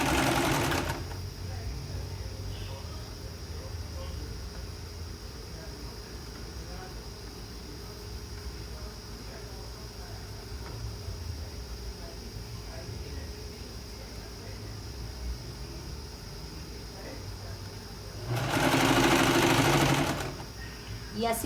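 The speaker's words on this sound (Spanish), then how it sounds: "Entonces ahora sí voy a coser." A sewing machine runs quietly and steadily for a long stretch as fabric is stitched at a one-centimetre seam for a shirt, with a louder burst of machine noise near the end.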